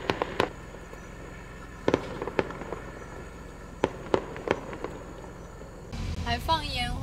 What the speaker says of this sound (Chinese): 还放烟花，这么热闹。